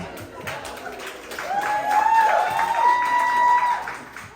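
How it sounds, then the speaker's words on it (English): Applause and cheering from a crowd at a Haitians for Michelle Wu campaign evening, steady and moderately loud, with a high sustained whistle-like tone rising above the din partway through. "Please make a round of applause"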